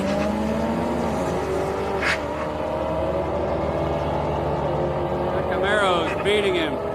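Chevrolet Camaro drag racing at Houston Raceway Park on a Friday street night, distant engines rising in pitch as cars launch and pull down the strip, heard under crowd noise and nearby talk.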